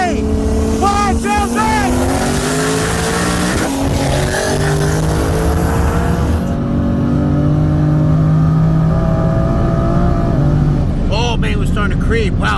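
Built twin-turbo Ford Mustang GT on E85 racing a built single-turbo BMW M4 on E85 and methanol from a 60 roll, loud sustained engine roar from inside the car with rising gear pulls and people talking over it.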